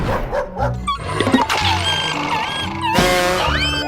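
A dog near its owner's house barks and yips in short excited bursts at a wolf, loud and close, with whimpering, rising whines and a shrill howl-like call mixed in.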